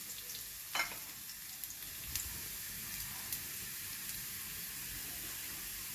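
Garlic browns in a frying pan for shakshuka, giving a soft, steady sizzling hiss with a few brief clinks of a utensil against the pan, fairly quiet and continuous.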